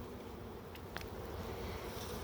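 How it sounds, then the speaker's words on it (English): A faint, steady buzzing hum from a mass of honey bees at an open hive on one of the last days of winter, continuous and low with a few brief louder passes near the microphone. "It's a lot of bees."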